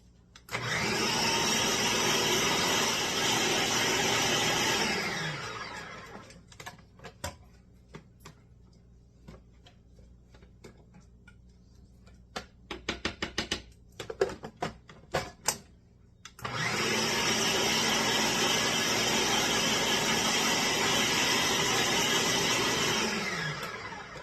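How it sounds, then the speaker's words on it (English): A food processor roars loudly as it purées roast garlic into a paste, a steady motor whine running for about five seconds, then a pause filled with clicks and taps, then a second equally long run. "Let's get that food processor rolling."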